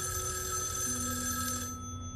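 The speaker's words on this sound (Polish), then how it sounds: "odbierzmy ten telefon" A telephone rings in a video game, a steady bright electronic bell trill sounding loud and close for about two seconds before cutting off, with no talking over it.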